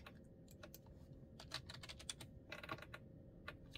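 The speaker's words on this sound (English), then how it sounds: "Let's type in magic." Typing on a computer keyboard indoors, a quiet, steady patter of irregular key clicks with no talking.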